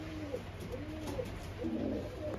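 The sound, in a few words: pigeons cooing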